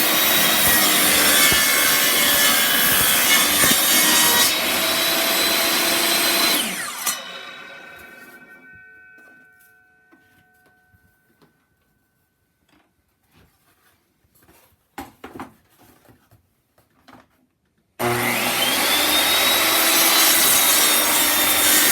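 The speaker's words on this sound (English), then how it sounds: "So, I set my saw up." Power saw cutting 45-degree bevels in cedar boards for a planter pot stand: two long, loud continuous whining cuts, one at the start and one at the end, separated by a quiet gap with faint handling clicks.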